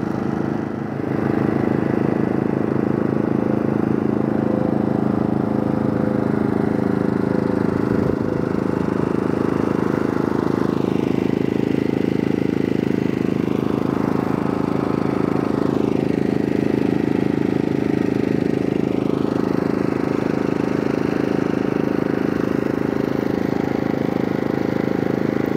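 Pulsar GD400BN dual fuel portable generator running on propane gives a steady, loud, continuous engine drone with an even hum throughout, no pauses.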